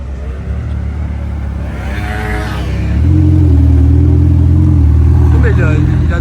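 A blue Ferrari 488 Pista Spider on its stock exhaust idles and then swells into a louder, steady rumble at close range on the street in Cannes, with people talking over it.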